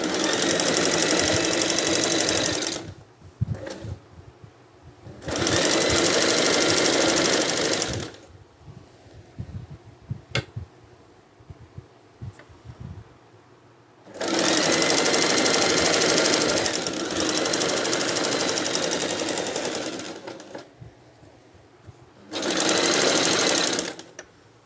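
A sewing machine stitches a trouser crotch seam in several separate bursts of rapid, loud mechanical chatter, with quiet pauses between runs.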